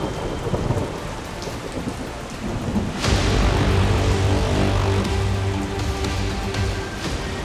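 Heavy rain pours down over a flooded city street while a sharp thunderclap cracks midway and then rolls into a deep, sustained rumble over the constant downpour.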